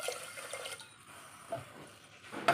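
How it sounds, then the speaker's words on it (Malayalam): Water is poured into a mixer jar holding cooked horse gram with turmeric and salt, a faint close splashing trickle that ebbs and returns, ending in a slightly louder gush. "നമുക്ക് ആവശ്യത്തിന് വെള്ളം ഒഴിച്ച് കൊടുക്കാം."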